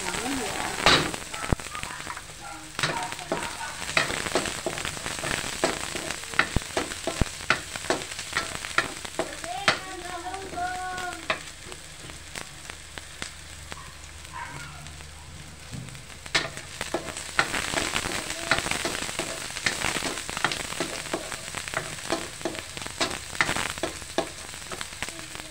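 Onions sautéing in a pan for pancit, a long crackling sizzle with frequent spatula scrapes and pops, close and busy, with a voice talking briefly midway.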